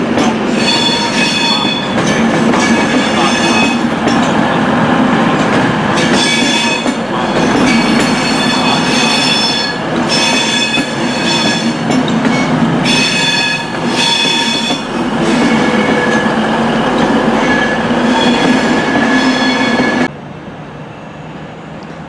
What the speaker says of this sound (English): Here comes the TransPennine Express Service to Newcastle via Manchester, Victoria, Leeds and Huddersfield and York as well.